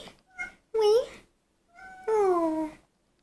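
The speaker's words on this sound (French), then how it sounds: "J'ai un chat qui parle" A pet cat meows indoors: two long, clear, pitch-bending meows, each led by a short softer chirp, with near silence between them.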